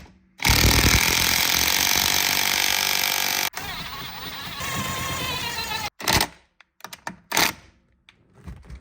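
A power tool runs loud and steady for about three seconds, then continues more unevenly, tightening the steering wheel nut on a C5 Corvette fitted with a carbon fiber wheel; short bursts and clunks follow as it stops.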